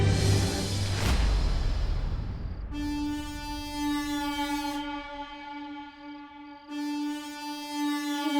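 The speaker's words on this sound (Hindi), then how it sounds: "ये तो सांता की हॉर्न पाइप की आवाज है।" A loud, sustained horn blares twice, long steady blasts separated by a short gap, after an initial burst of rumbling noise.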